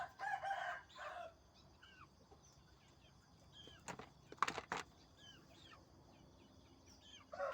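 Chickens and a rooster in a backyard coop, with a brooding hen nearby, let out scattered clucks and short calls that come and go quietly. A few sharp knocks and rustles of movement sound close by around the middle.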